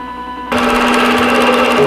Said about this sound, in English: I'm going to go ahead and get started and sew quilt.